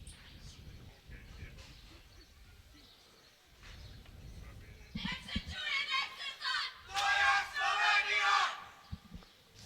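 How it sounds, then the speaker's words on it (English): Slovenian spectators at a youth archery gold medal match in Catez chant in bursts, rising from murmuring into loud rhythmic shouted chants with several voices together, echoing in the open air. "Just hear Slovenian chanting."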